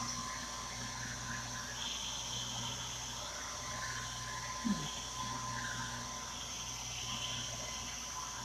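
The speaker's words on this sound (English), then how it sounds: "go ahead and hit that with the dryer." A steady, whooshing heat dryer roars on continuously at close range, drying a chalk craft project, a constant airy hiss with a low hum underneath and a brief bump partway through.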